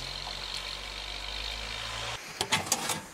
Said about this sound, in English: Let's look at the mail truck.